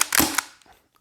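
An unsuppressed airsoft pistol fires a sharp, loud crack with an echoing mechanical clack, quickly fading to quiet.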